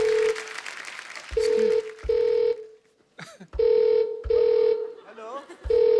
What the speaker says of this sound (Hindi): फोन आ रहा है, स्टेथोस्कोप नहीं आ रहा